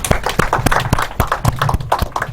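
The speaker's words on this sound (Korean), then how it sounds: "서금석 시회장님을 뜨거운 박수로 맞이해 주셨으면 좋겠습니다" An audience gives warm applause to welcome a speaker at a lecture session, quick uneven hand claps rattling close by for a couple of seconds without any talk.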